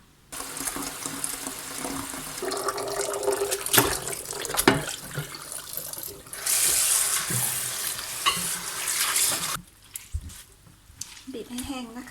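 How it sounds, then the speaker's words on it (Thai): Pickled garlic mustard greens are rinsed under running water, a close splashing tap stream with clinks and handling noises, then a quieter stretch near the end. "เดี๋ยวเราจะไปล้างน้ำออกสักสองน้ำนะคะ"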